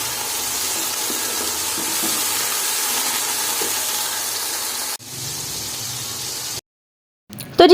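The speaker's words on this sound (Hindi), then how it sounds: "अच्छे से हम प्याज को गोल्डन ब्राउन करेंगे।" Onions frying golden brown in a pan give a steady, close sizzle for about five seconds, then a quieter stretch and a brief cut to silence before a short burst of noise at the end.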